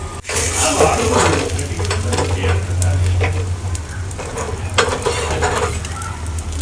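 Boiled egg omelette frying in a pan, seasoned with salt, cumin and masala, sizzles steadily and close up throughout, with faint stirring and utensil clinks and a low steady hum underneath.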